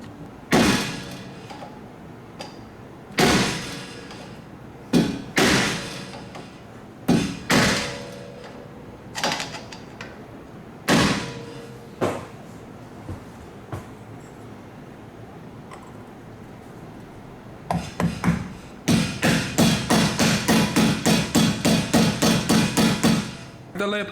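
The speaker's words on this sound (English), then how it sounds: "now I can notch the little lip of the nut here so it secures it and keep it from spinning." A hammer and punch stake the lip of a BMW E36 wheel bearing axle nut, heard as sharp, close metallic blows, spaced a few seconds apart at first and then a rapid run of quick strikes near the end.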